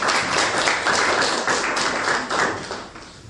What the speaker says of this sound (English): So they deserve a big round of applause.